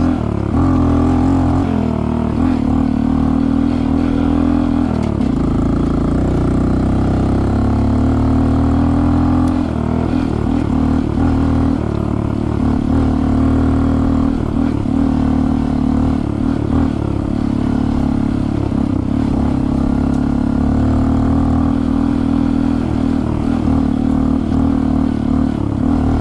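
A Honda CT125 motorcycle climbing uphill in first gear, its engine droning loud and close for the whole stretch with wavering, rising revs.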